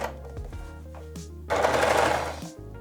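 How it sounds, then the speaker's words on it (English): An overlocker runs along the top edge of a fraying skirt fabric, its motor humming steadily before a louder, rapid stitching burst rises for about a second and then stops. "This fabric frays quite a lot, that's why I'm overlocking the top"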